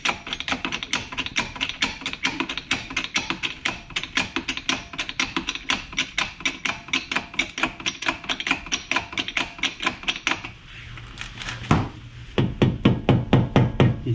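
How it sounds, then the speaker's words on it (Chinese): A jack pushes on a tie rod bolt on a 2006 Toyota Camry, a steady run of sharp metallic clicks from a close ratcheting jack, with a pause and a louder knock near the end. "就用千斤顶直接去顶它的那个螺丝"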